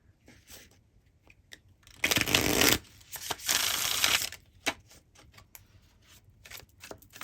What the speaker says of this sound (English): Let's go ahead and look at your tarot cards.